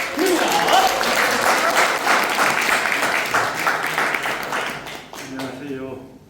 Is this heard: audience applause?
yes